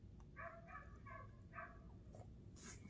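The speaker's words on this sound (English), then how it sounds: "And that ain't my dog barking." A neighboring dog barks several times in a quick run of sharp, moderately distant woofs over a low steady background hum.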